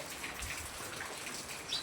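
Steady rain falls outdoors where rainwater is pooling, a soft, even hiss of drops throughout, faint and continuous with no voices.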